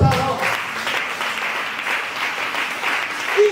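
A church congregation breaks into sustained applause, a dense, even wash of clapping that carries steadily throughout with a few voices mixed in.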